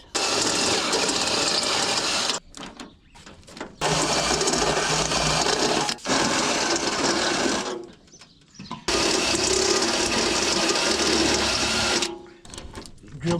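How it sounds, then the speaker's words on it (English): A drill bores hood-pin holes through the hood of a 1969 car, running in loud, steady whirring bursts of about two to three seconds, separated by short pauses. "Drill the hood now."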